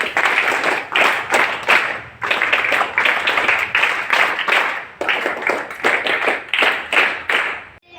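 Audience at a village middle school in Kangrali BK applauding to welcome a guest; steady, dense clapping from many hands in close bursts for about eight seconds, with brief dips between waves.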